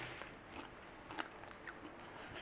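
Close, quiet crunching as someone bites and chews a crunchy no-bake cornflake peanut butter square topped with chocolate, a few distinct crisp bites amid soft mouth noises.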